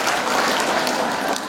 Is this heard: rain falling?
no